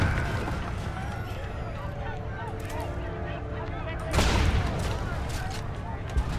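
Gunfire from the video game Homefront: The Revolution crackles as rapid shots amid a busy in-game soundscape, with one louder burst near the end and a voice speaking over it.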